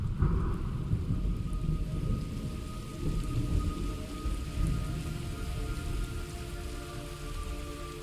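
Steady heavy rain pours down with a deep, low rumble of thunder rolling underneath, continuous and fairly loud, in the video game Metal Gear Solid 3: Snake Eater.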